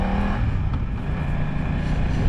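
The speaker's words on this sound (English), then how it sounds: "Yeah, there's a car behind me." A car engine hums at a low, steady level on a village road, a constant close motor drone with no clear pass-by or change in pitch.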